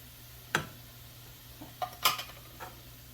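A spoon scrapes and clinks against a pan while beef stroganoff is stirred, giving a few sharp metallic scrapes with brief pauses between them, close and moderately loud over a low steady hum.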